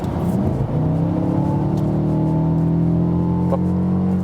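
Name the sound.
Mercedes CLA 250 2-liter turbo engine accelerating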